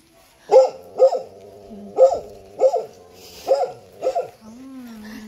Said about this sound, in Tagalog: Ayan, nagalit na yung aso.